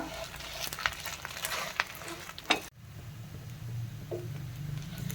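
A fasting dosa for Ashadhi Ekadashi roasts on a pan with a steady low sizzle, while a few sharp scrapes and taps of the spatula come through up close.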